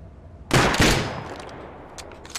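Gunfire in the survival video game Rust during an online base raid: a loud burst of shots followed by scattered fainter cracks and echoes, with no talk.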